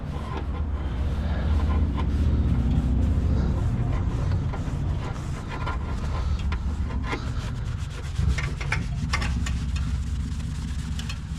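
Heavy paint is scraped and rubbed from inside the wheel wells of an Acura Integra, a continuous gritty abrasive rasping with uneven strokes and a low rumble underneath.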